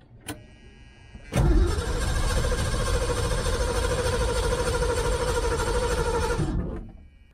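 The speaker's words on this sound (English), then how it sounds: "I'm trying to build up the fuel in the filter, but to do that I need to crank it a little bit longer" A Ford Mustang II engine is cranked and then sustains a steady, loud mechanical run for several seconds before cutting off abruptly, heard close with no talk.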